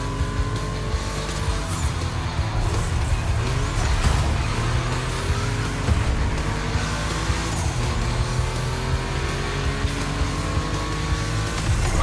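Cars racing on a track in The Crew Motorfest, a continuous loud engine roar with tyre squeal and skidding layered over it, dense and unbroken throughout.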